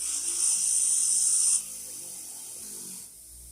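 A wire wheel scrubs residue off a rusty, bent Stilson pipe wrench, giving a loud, steady high-pitched rasping whir that drops off abruptly partway through, leaving a quieter hum.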